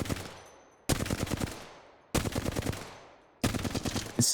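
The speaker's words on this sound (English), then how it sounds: "It's taking me forever to shoot that magazine, right?" Automatic gunfire from a weapon emptying a full magazine in Apex Legends, heard as three long, loud bursts of rapid shots separated by short pauses, with no talking.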